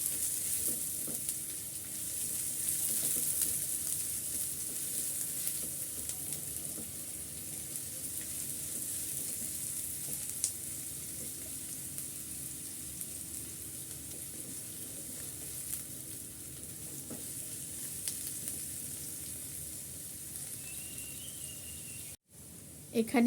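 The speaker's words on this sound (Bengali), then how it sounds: "পেঁয়াজ কুচি এগুলো আমি একটু ভেজে নিচ্ছি এখানে" Chopped onions fry in hot oil in a pan as part of a beef mash (bhorta) recipe, giving a steady broad sizzle with occasional stirring that holds throughout, then drops out briefly near the end.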